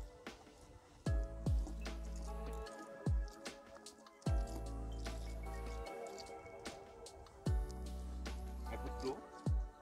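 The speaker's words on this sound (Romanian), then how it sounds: "Mâna cu care o să amesteci o să fie asta, da?" Hand mixing fishing groundbait in a bowl while water is added, giving close wet squelches and squishing pulses at irregular intervals, with a low drip and trickle between them and a voice talking quietly.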